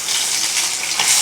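Loud, hissing sizzle of fish frying in oil, close up and continuous, crackling without any voices.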